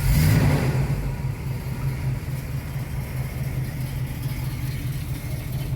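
A 1981 Pontiac Trans Am with a shaker hood runs with a steady, loud engine note, a sharp rev swelling at the start before settling into a constant rumble close by.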